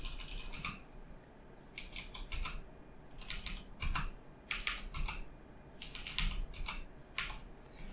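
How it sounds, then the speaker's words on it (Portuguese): Steady typing on a computer keyboard while entering words and numbers into a Python program, with bursts of clattering keystrokes in irregular runs and short pauses, close and moderately quiet, with no talking. "eu estou digitando várias palavras"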